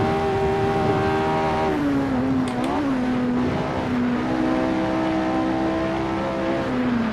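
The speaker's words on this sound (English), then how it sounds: "Now full throttle all the way through this corner." A race car engine at full throttle in the Assetto Corsa racing game on the 1967 Reims-Gueux circuit, a loud steady howl holding high revs throughout with a brief dip and recovery, no speech.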